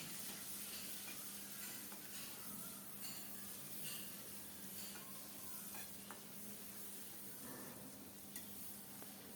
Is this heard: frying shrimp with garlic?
yes